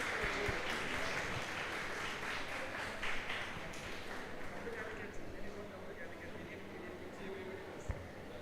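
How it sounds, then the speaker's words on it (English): Audience applause at a college architecture event, a steady patter of clapping that runs the whole way through at moderate level while voices murmur and talk underneath it. "a round of applause for Shivani ma'am."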